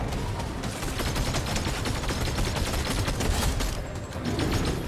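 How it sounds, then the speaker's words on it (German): The Chrome Queen fires steadily at the player in Fortnite, sustained rapid gunfire that stays loud and close for several seconds with no voices over it. "Jetzt schießt diese Chromkönigin mich an."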